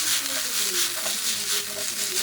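Garlic fries with onions in a pan, giving a steady, dense sizzle that stays loud and even throughout, with faint stirring underneath.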